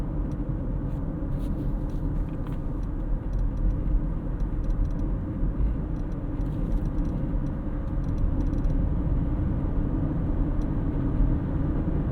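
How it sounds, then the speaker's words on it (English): Low, steady road rumble and tire noise inside the cabin of a 2023 GMC Terrain AT4 in afternoon traffic, a constant droning hum with no talking. "A little bit of road noise in the cabin, not too bad."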